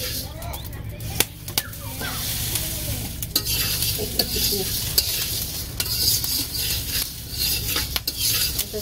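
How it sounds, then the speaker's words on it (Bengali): Mung dal fries in a wok, a steady sizzle under repeated scraping and clinking as a utensil stirs it against the pan, close and fairly loud. "মুগ ডাল কড়াইতে দিয়ে দিছি"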